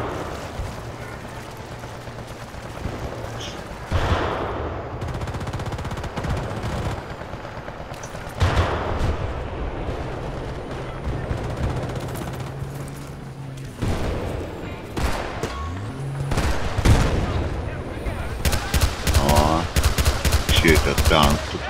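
Bursts of Battlefield: Bad Company 2 Vietnam gunfire, rapid automatic volleys mixed with single shots, over a steady electronic background hum, growing denser toward the end.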